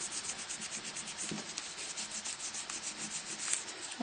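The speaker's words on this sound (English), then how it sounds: "I can obviously do a little more polishing." A stamped aluminum metal blank is rubbed with a polishing pad in quick, steady back-and-forth strokes, a soft, close scratchy swishing heard alone.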